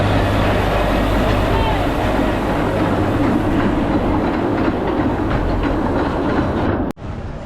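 A roller coaster train rumbles and rattles along its track nearby at Blackpool Pleasure Beach, a steady rushing clatter that cuts off abruptly near the end.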